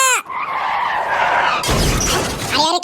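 A car with failed brakes skids hard: a loud, rising tire screech opens, then a long harsh scraping roar and a noisy rumble, ending in another brief squeal, close and loud.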